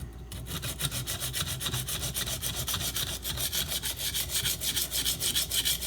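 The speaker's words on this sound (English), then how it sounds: "So I'm going to probably grind a little bit in there." A chipped kitchen knife edge near the bolster is ground by hand in quick, even back-and-forth strokes, a close rasping scrape repeating several times a second throughout, with no voices.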